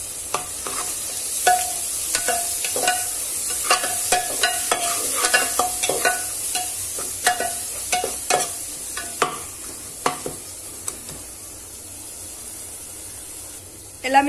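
A spoon scrapes and stirs egg biryani masala mixed with yogurt in a pan, a close series of irregular clinks and scrapes over a soft sizzle that thins out toward the end.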